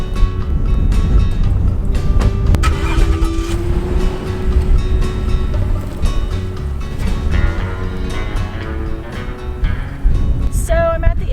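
Truck camper driving a bumpy road in Nevada, a steady loud rumble of engine and road noise with wind buffeting throughout and occasional rattles and knocks.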